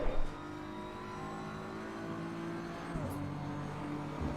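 Race car engine in Assetto Corsa Competizione, a steady high whining drone with layered harmonics, starting with a brief louder burst, then holding near constant and shifting pitch slightly just before the three-second mark.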